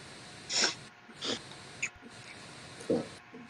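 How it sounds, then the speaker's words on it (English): A few wet sniffles and snorting breaths, spaced unevenly over quiet background, fairly faint and close by. "He's sniffling in the background."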